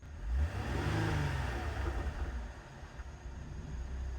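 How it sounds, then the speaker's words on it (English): A flood-damaged Cadillac CTS engine running, a steady mid-pitched engine hum with a brief rev near the start that settles to an even idle, heard close up without talk. "the engine seems really, really healthy on this thing"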